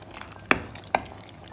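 Mutton gravy with fried onions is stirred in a pot over a soft background sizzle, with two distinct scraping strokes of the spoon about half a second apart, close and fairly quiet.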